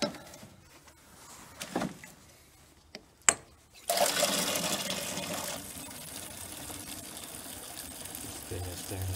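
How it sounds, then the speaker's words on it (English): Water poured onto compost used as a spring top dressing, a few scattered knocks and clatters before a steady, fairly loud splashing pour sets in and continues to the end. "Water."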